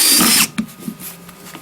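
A cordless Bosch or Einhell drill driver spins a screw into material in a short, loud whirring burst that cuts off abruptly, followed by faint clicks and light handling noises.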